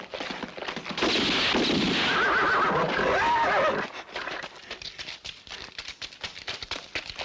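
A loud, drawn-out horse whinny rises and falls for a few seconds, then clattering hoofbeats and thuds continue at closer range.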